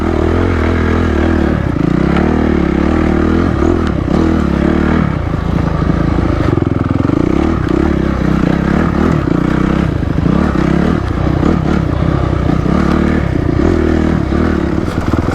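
A Honda CRF250X four-stroke woods dirt bike ridden through tight single track over roots, its engine loud and close throughout, revving and surging with clattering and scraping from the trail.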